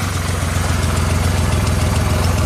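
A Yamaha engine with a battery-charging problem runs at low idle, a steady close mechanical hum and rumble with an even pulsing rhythm throughout.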